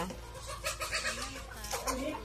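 Chickens cluck near a home in rural Thailand, several short pitched calls coming in bursts over steady background noise.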